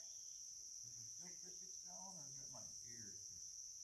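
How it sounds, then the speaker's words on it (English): Crickets chirp at night in the Sipsey Wilderness in a steady, high, continuous trill, with faint distant voices murmuring briefly underneath. "Heard crickets all night last night, and they got loud."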